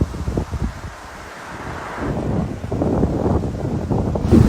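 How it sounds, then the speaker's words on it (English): Strong side wind roars across cyclists' microphones on a climbing desert road in China, a steady, loud, gusty rush with no speech. "Proper windy this morning"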